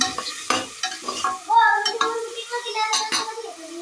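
Vegetables are stirred in a hot pan, with a spoon scraping and clinking against the metal over a soft sizzle of frying, in short irregular strokes close by.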